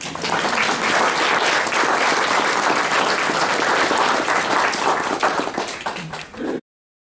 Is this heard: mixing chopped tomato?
no